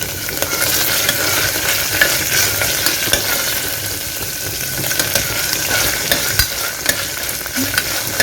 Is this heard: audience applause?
no